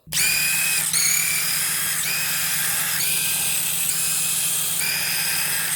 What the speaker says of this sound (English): Once they are completely loose, go ahead, grab a gun, and run those bolts out.